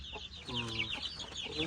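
Being caught and put into a sack to go to a rice field, chickens keep up a flurry of nervous clucks and a longer complaining squawk, close and steady in volume over faint low background noise.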